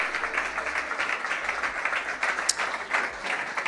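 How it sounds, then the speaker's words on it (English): An audience claps steadily for a few seconds, dense and sustained applause filling the room at moderate loudness, with no individual voices standing out. "Let's keep clapping"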